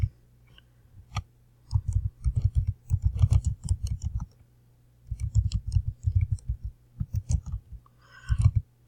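Someone types a search query on a computer keyboard in fast bursts of close, crisp key clicks, with a brief pause in the middle before a second run of typing and a final quick flurry.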